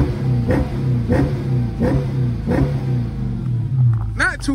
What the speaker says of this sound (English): stock exhaust, no air intake. I'm going to show y'all how it